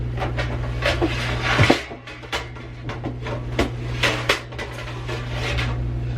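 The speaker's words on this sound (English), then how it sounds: "Why are pans so loud?" Metal pans clatter and clank repeatedly up close, a series of sharp knocks and scrapes over a low hum.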